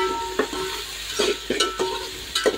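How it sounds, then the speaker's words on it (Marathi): Diced onion and tomato fry in hot oil for a chicken dish, a steady sizzle broken by a spoon scraping the pan roughly once a second, close and moderately loud, with no talking. "चौकोनी कांदा तेलामध्ये फ्राय करण्यासाठी टाकला"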